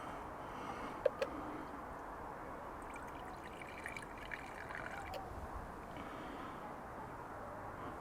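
Purisol sanitising solution is poured into a motorhome's fresh water tank, giving a soft, continuous trickle with faint splashing and a couple of small knocks near the start.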